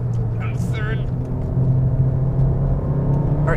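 A Ford Focus RS or Volkswagen Golf R engine growls steadily at close range on a race track, a low droning rumble that holds through the clip with brief whines and chirps near the start.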